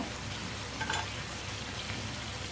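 Poa fish bhuna sizzles and fries in a pan, a steady, quiet crackle with a faint stir partway through and no voices.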